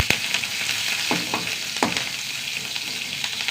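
Curry leaves dropped into hot oil, crackling and sizzling in a steady fry with a few sharp pops and stirring clicks, close and alone without speech.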